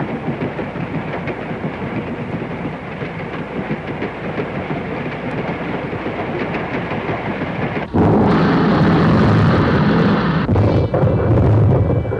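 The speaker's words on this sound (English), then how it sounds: "The oncoming trains will do the rest." A train rumbles past on rails in a wartime setting, a continuous loud clatter that swells abruptly near the end into a heavier, closer roar as the cars go by.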